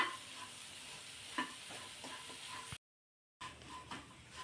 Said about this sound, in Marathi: आता हे पुन्हा एक दोन मिनिटासाठी परतून घ्यायचं आहे मिश्रण